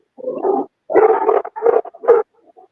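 Rescue dogs barking and yipping in a rapid string of loud, close barks with short whimpery gaps, fading to a few faint yips at the end, no talking.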